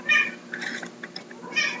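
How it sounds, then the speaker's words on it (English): A house cat meows several times nearby, loud drawn-out cries at the start and end with softer chirping sounds between. "my cat has decided that this is a perfect time to start mewing"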